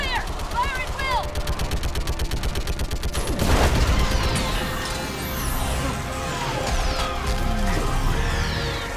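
Rapid sustained gunfire fills a Mass Effect battle, with rhythmic automatic bursts, a heavy impact midway, and sweeping laser-like whines and mechanical roars layered over the combat din.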